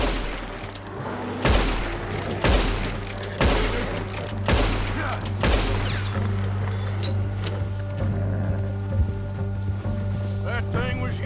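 Gunfire in Red Dead Redemption 2 cracks out as a series of sharp, fairly close shots over a low steady rumble, spaced roughly a second apart early on before thinning out, with game voices heard around it.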